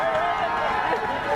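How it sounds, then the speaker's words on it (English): A high school student section cheers for a player warming up at a soccer match between North Allegheny and Shaler, a dense, loud wash of crowd voices and shouting that fills the whole moment. "Student section cheering for Braden Jones"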